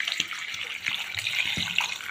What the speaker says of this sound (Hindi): पानी डालेंगे